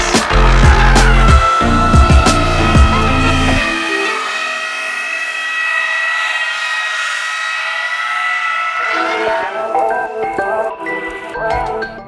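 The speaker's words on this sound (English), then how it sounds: "when you're really sliding the back end, when the car is very sideways" A BMW 2 Series Coupe drifts sideways, its engine revving hard with loud tonal whine and tire noise, then holding a steady high drone before easing and picking up again.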